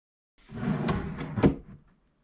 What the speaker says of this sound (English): Now, the main drawer has a push-to-open drawer slide in the front.